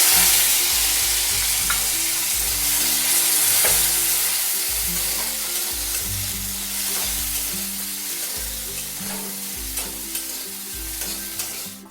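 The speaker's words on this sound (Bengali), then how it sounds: "এবার দিয়ে দিচ্ছি সবজিগুলো।" Vegetables added to hot spice paste sizzle and fry in a pan for paneer, with repeated scraping stirs of a spatula in a clear rhythm over the constant hiss, close and loud.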